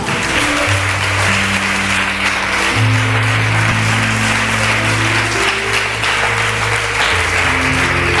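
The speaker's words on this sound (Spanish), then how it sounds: "Dale un aplauso a Jesús" Steady applause from a church congregation during a revival service in Ecuador, continuous and full throughout, with sustained musical tones running beneath the clapping.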